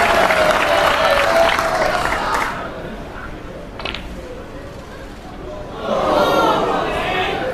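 Spectators at a Power Snooker final applaud in the arena, a burst of clapping and crowd noise that fades briefly then swells again, under commentary.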